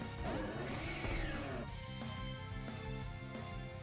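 Harsh, grinding metallic screech of the Metal Sound move in Pokémon Y, a dense warbling game effect that fills the whole stretch at steady loudness with no talk over it.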